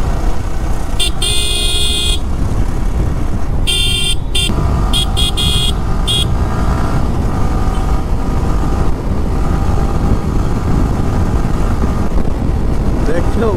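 A motorcycle rides through traffic and overtakes other vehicles, its engine buried under constant loud wind rumble, with repeated car horns honking nearby and a voice talking over the ride.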